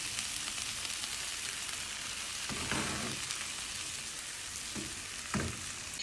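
Beaten egg mixture frying gently in a pan over very low heat for Turkish-style eggs, giving a steady soft sizzle throughout with a few faint clicks near the end, no talking.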